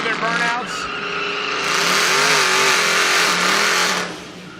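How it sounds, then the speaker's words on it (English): Dodge cars doing burnouts at the Roadkill Nights drag event, their engines revving hard and climbing to a sustained roar with tire noise, loud and close, before easing off near the end. "let's let these do their burnouts."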